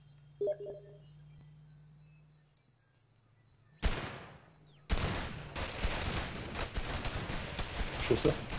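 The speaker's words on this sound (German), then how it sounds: "Schüsse." Gunfire erupts suddenly after a quiet stretch in the video game Arma III, a sharp burst followed by sustained rapid shooting and crackling explosions that continue loudly.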